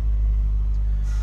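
A 2004 Chevrolet Corvette idles right after startup, a steady deep low rumble with a strong, even engine hum, close and constant with no revving or talk.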